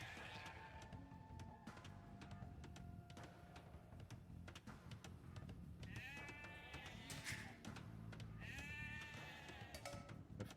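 Sheep bleat several times in the Age of Empires real-time strategy game, with clusters of bleats near the middle and end over a steady bed of game ambience and effects.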